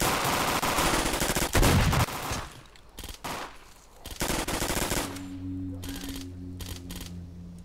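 Assault rifle fire in the S.T.A.L.K.E.R. video game comes as several loud rapid bursts of shots with short gaps between them, followed by quieter clicks and a steady hum.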